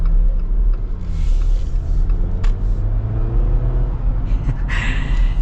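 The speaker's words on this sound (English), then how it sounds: "this turbocharged engine" Turbocharged engine of a 2024 Jeep Wrangler Sport while driving, with a steady low rumble and road noise heard from inside the cabin, and a brief higher whoosh near the end.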